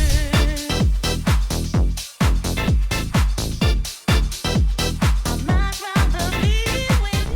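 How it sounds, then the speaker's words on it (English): A driving UK house music track with a punchy four-on-the-floor kick, bright synth stabs and melodic vocal-like lines, loud and continuous with brief dropouts. "festival-ready house with rave energy, soulful vocals, and that classic UK house sound"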